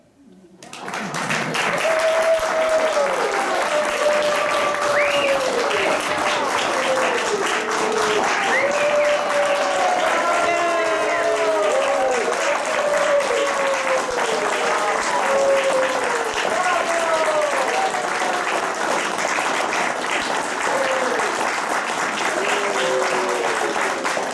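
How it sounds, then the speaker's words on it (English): A theater audience at the end of an improvised Charles Dickens-style comedy show breaks into loud, sustained applause with cheering and whistles that continues steadily for over twenty seconds. "Give yourselves a big round of applause."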